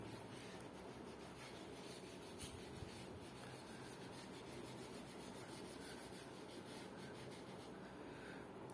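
A whiteboard or chalkboard eraser rubs steadily across a board, a continuous close scratchy friction with small bursts of stroke noise. There is no speech.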